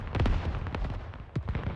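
Rocket explosions in a military video game battle between insurgents and militia at Kamdesh, a rapid burst of loud booming blasts in the first second, then another pair of heavy detonations near the end.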